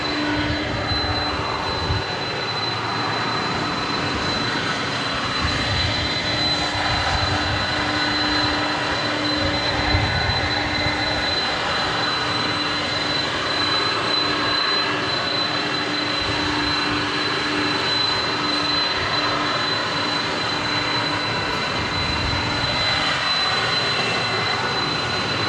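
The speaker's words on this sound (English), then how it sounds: "MD-11 is going to get to parking" An MD-11 jet taxis to parking at DFW Airport at night, its engines producing a steady, fairly loud hum with a sustained high whine tone over a broad rumble.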